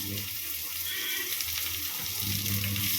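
Curry leaves fry in hot oil for a crab masala gravy, giving a steady, close, broad sizzling hiss that holds without a break for the whole stretch.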